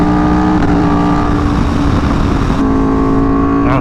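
Loud, close engine roar of an Aprilia Tuono V4 motorcycle under hard acceleration, holding steady through a sharp, abrupt cut as it shifts from second to third gear, then pulling on.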